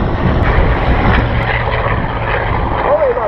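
A vintage airplane's 3,350 cubic inch radial engine running, a loud, close, rough propeller drone with a deep throb, while a person talks over it.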